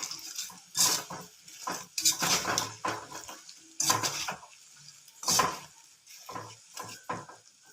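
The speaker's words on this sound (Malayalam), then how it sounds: "നമുക്കതിലേക്ക് മീൻ ചേർത്ത് കൊടുക്കാം. നന്നായിട്ടൊന്ന് ഇളക്കുക." Fish being stirred into roasted spice powder in a pan for Kerala-style fish pickle, with repeated scraping and clinking of a spoon against the pot and a light sizzle between strokes.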